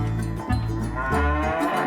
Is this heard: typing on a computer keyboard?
no